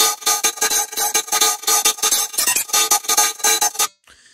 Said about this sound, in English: let me play the lead by itself